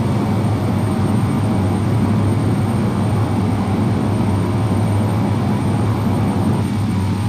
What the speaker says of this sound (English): Alright, touchdown, and the reversers are engaged.